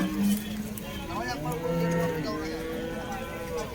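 Heifers at a cattle market low and moo in drawn-out, wavering calls close by, overlapping one another above a murmur of background voices.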